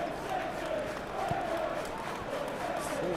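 Stadium crowd in the Football Life 26 video game, a steady broad roar of many voices with rising swells and scattered shouts, continuous throughout at moderate distance.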